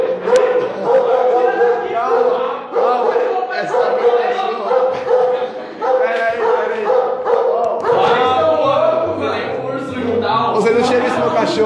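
A dog barks and yips repeatedly through an indoor scene, its barks mixed with excited people talking over and around it, fairly close and loud throughout.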